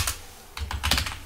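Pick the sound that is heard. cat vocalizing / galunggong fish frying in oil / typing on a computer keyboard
typing on a computer keyboard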